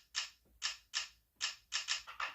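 Camera shutter samples arranged into a syncopated beat: seven sharp, bright clicks in an uneven pattern, with two pairs spaced closely together, close and clean with no talking.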